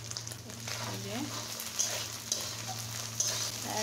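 Shrimp frying in a pan hiss with a continuous close sizzle under a low steady hum, with a few light clinks and a faint voice in the background.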